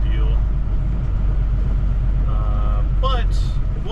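Heavy rush hour traffic on I-10 heading into New Orleans, heard from inside a truck cab as a loud, steady low rumble with brief tonal squeals and horn-like chirps near the end.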